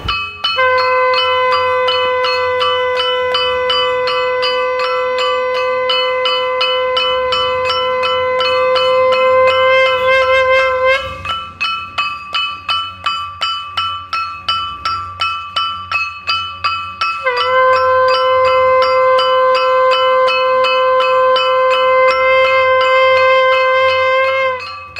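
Priests blow conch shells and ring temple bells during the coronavirus Janata curfew. Two long, loud, sustained conch tones are joined by rapid, continuous metallic bell clangs that carry on alone in the gap between the blasts.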